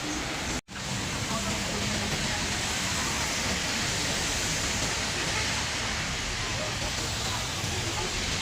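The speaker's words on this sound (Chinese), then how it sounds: "雨小了很多，但仍在下。" Steady rain pours down during a hailstorm in Lanzhou, a dense, loud, unbroken hiss with one brief dropout near the start.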